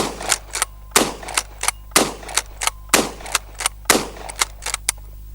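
Shots from a Pardus LAX12 camo lever-action shotgun, a rapid series of sharp, loud reports about every half second to second, each trailed by a short echo, with no voices.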